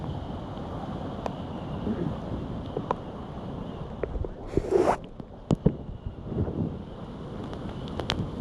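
Strong storm wind roars in a low, steady rumble outdoors, broken by gusty buffeting against the microphone and scattered sharp knocks and rattles.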